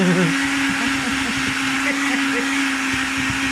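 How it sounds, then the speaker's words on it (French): An electric hand mixer beats cold eggs for tiramisu, giving a loud, continuous high whine with a steady hum that runs unbroken throughout. "c'est parce que le batteur, les œufs ils sont trop froids"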